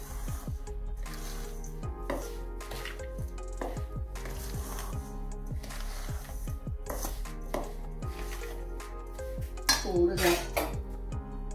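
A spoon clinks and scrapes against a pan again and again while besan ladoo mixture is mixed with dry fruits, making quick metallic taps in an uneven rhythm, close and fairly quiet, with a louder clatter near the end.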